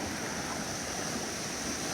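Water flowing in a small side channel of Sailors Creek at Daylesford, a steady close-up rush and gurgle with a broad hiss, continuous and even throughout with no voices.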